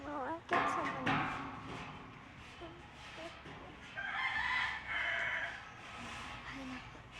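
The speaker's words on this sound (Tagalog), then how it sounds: "may manok pa" A rooster crows somewhere outdoors, fairly far off and moderately faint, its call rising and falling a couple of times amid light background noise and occasional nearby voices.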